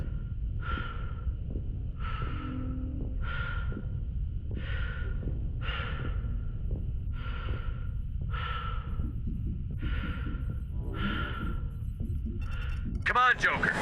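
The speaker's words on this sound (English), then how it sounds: "I would hate to just have to hear my own breathing." Steady, rhythmic breathing from a character in the video game Mass Effect Legendary Edition: about ten slow, evenly spaced breaths over a low rumbling background, ending in a brief swelling sound.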